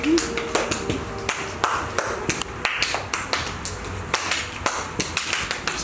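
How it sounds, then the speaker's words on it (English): Sydney doing stepping, a rhythmic routine of hand claps and foot stomps performed outdoors, producing a steady run of sharp, close percussive taps and slaps over several seconds. "I'm gonna make music by clapping and stomping my feet."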